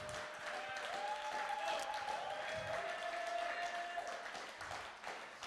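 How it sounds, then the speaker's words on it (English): Scattered applause from a church congregation, steady and moderately distant for several seconds, with a few voices calling out over it. "Come on, clap a little bit."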